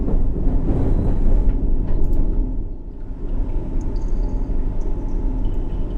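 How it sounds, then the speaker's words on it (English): Subway train arriving at a District Line station in the World of Subways 3 simulator, a steady loud low rumble running the whole time, dipping briefly midway, with faint higher squeals appearing later. "Here's our train."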